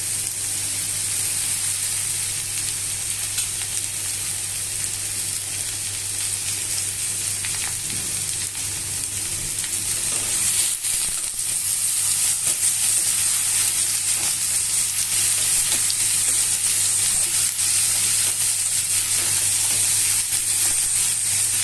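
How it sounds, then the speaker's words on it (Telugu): Ridge gourd pieces cook with fried onion and green chilli in a kadai over a low flame, giving a steady, even hiss and sizzle that runs unbroken and close. "బీరకాయ ముక్కలు వేద్దాము."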